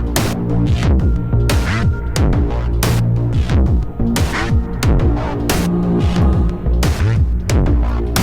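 Mysteria, a cinematic sound design instrument, plays a dense, throbbing, sustained texture with low drones and repeated bright swelling hits, loud and continuous with no voice.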